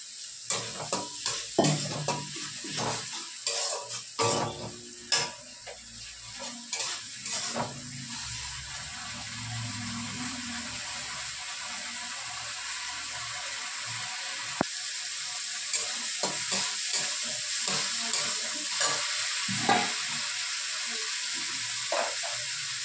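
Water hits a hot frying pan holding Kashmiri chilli powder and spices, then is stirred with repeated scraping and knocking of a utensil, loud and close, settling into a steady sizzling hiss.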